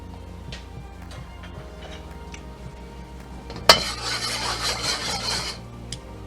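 Crushed red pepper flakes stirred in smoking-hot oil for orange chicken, soft scraping and ticking of a utensil in a pan, then a sudden clank and a steady sizzling rasp as stirring continues, close up.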